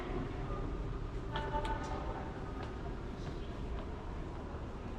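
Toronto subway train on the Yellow Line, a steady low rumble of the moving car with faint squeals and clanks, heard from inside at a moderate, even level.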